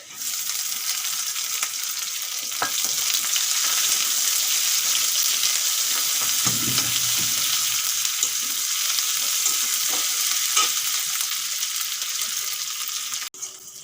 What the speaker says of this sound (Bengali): পেঁয়াজগুলো ভালো করে ভেজে নিয়েছি